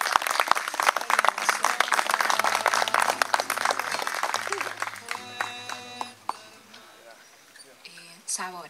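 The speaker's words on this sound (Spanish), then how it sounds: "El aplauso para Victoria Eugenia." Audience applause at a poetry reading, dense clapping from a crowd that builds and holds for several seconds, then thins into scattered claps, with a voice speaking toward the end.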